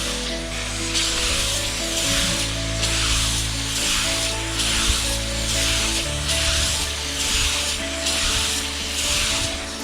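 Window screens being scrubbed clean with a brush, rhythmic back-and-forth rubbing strokes in a steady pattern over a low constant hum, close and moderately loud, with no talking.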